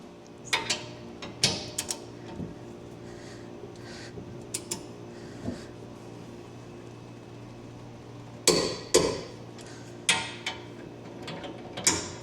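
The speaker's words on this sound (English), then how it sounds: "Torque each of these to 110." Torque wrench tightening the bolts on a B&W Companion Slider fifth wheel hitch to 110, heard as a series of sharp metallic clicks in scattered bursts, several clustered near the end, over a steady low hum.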